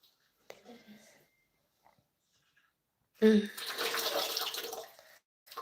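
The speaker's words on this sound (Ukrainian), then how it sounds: "Ну зачем ти розливаєш останню воду?" Water splashes and pours out of a container indoors for about two seconds, loud and close, after an earlier stretch of faint shuffling and a brief voice.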